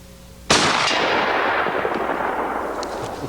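A single gunshot aimed at a steel disc target on an outdoor range cracks sharply and loudly, then rolls into a long echoing decay that fades slowly.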